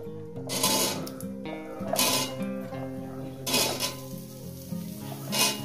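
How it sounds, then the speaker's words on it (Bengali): Potatoes hitting hot oil in a pan already tempered with whole garam masala spices on a low flame, giving a steady close sizzle that surges in several loud frying bursts, with music playing underneath. "ফোড়ন আমার কয়েক সেকেন্ড ভাজা হয়ে গেছে। এবার দিয়ে দেবো আলুগুলো।"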